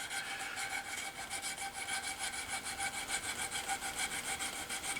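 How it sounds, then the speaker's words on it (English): A woodturning bowl gouge is honed with quick, steady back-and-forth strokes, each one a close, raspy rubbing hiss in an even rhythm of about five strokes per second, with no voices. "let me hone my bowl gouge real fast here"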